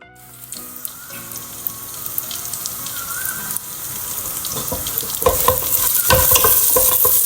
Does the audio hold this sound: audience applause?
no